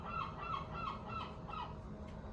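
A seagull calls outdoors in a short series of four or five squawking cries at a moderate distance, over a steady low background rumble, with no one talking.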